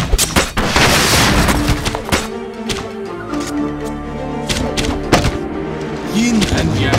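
Gunfire in the real-time strategy game Battle Realms pops in scattered bursts and booms amid loud battle noise, with game unit voices talking over it.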